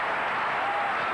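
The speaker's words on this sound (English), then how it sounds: "The crowd is loving it." Tennis crowd applauding during a 1982 final between top women players, a dense, steady wash of clapping that holds at an even level for just over a second.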